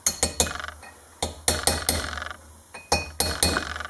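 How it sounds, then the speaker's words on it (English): Sharp metallic clinks as a thick square-edged steel punch drives a new front wheel bearing into the hub bore of an F150, struck in quick bursts of two or three taps separated by short pauses, close and loud. "and you just start tapping it in."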